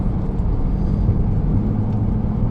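Steady road noise from inside a car cruising along, a constant low rumble of tires and engine with an even hum and no clear changes.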